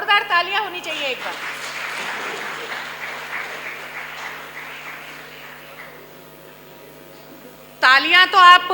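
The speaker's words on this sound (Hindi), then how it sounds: "जोरदार तालियां होनी चाहिए एक बार" Loud audience applause at a souvenir book release and honour ceremony, clapping swelling and then gradually fading over several seconds, bracketed by a voice speaking before and after.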